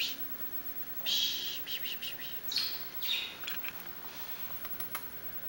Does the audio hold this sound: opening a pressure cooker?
no